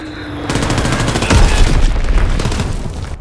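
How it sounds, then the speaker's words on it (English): A dropped Azon bomb in a video game sets off a loud, booming blast that swells into a sustained, crackling roar and rolls on for a few seconds before fading. "Dropping Azon bomb."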